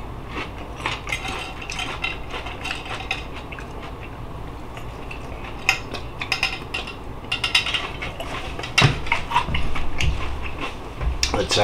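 Hash browns are lifted off a pan with scraping and clinking metal utensils, intermittent sharp clatters growing busier toward the end, over a low background hum with a voice talking.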